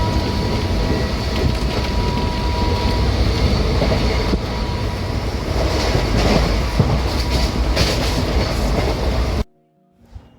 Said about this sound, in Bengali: উঠে গেছি আমরা ট্রেনে